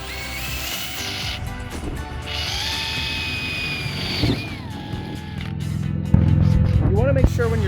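A power drill whines and revs in several bursts, pitch rising and falling as it bites through metal while installing a rear spoiler on a Mustang, with voices talking over it.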